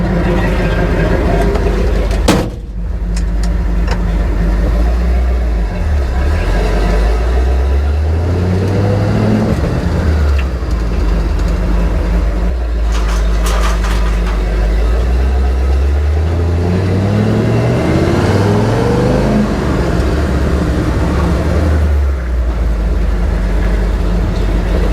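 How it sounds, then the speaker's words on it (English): An old tow truck's engine runs loud and close while driving on a scrap job, rumbling steadily and rising and falling in pitch through several gear changes, with a brief clunk early on. "I love this old tow truck"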